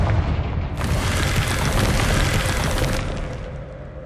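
A Confringo blasting spell from Hogwarts Legacy bursts into a loud, broad roaring explosion that flares suddenly, holds for about two seconds of crackling blast noise, then fades into a low rumble.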